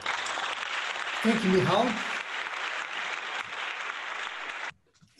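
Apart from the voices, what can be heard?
audience applause after a conference talk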